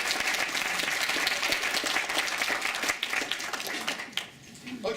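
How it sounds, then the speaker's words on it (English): A big round of applause from a show audience welcoming a guest named Scott: loud, dense clapping sustained throughout, easing off slightly near the end. "give him a big round of applause for coming"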